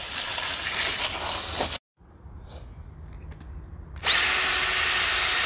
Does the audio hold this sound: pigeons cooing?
no